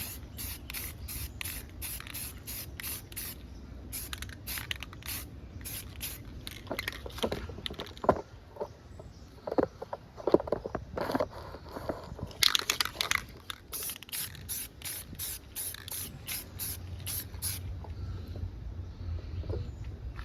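Spray paint hisses onto the chrome trim of a 2020 Nissan Rogue for a second blackout coat, in many short bursts with pauses, interspersed with soft handling and rattling noises between passes.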